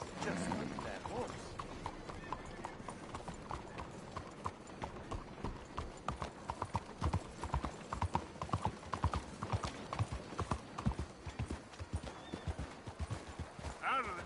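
Horse hooves clip-clop steadily in Red Dead Redemption 2, a continuous rhythmic run of sharp hoof strikes close up, with a brief whinny-like sound at the start.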